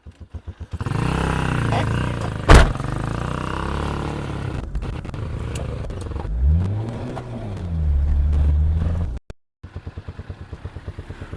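T-40 tractor driving after a clutch repair: a loud, rough engine chugging with clattering rhythm, rising and falling revs and a sharp bang near the start, with people talking nearby.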